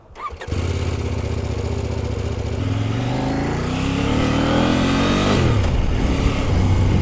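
A KOVE 800X Pro adventure motorcycle fires up after a brief click, settles into a close, loud idle, then revs up with a rising engine note that drops back and climbs again.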